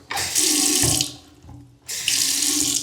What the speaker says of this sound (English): So we have our hot and cold running water.